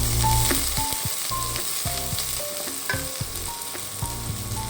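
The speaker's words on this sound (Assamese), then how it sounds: "অকণমান সময় ভাজি থাকিম পিঁয়াজখিনি" Sliced onions sizzle steadily in oil with whole cardamom, cinnamon and cloves for palak paneer. A spoon scrapes and taps the pan in a loose rhythm, close and alone with no talk.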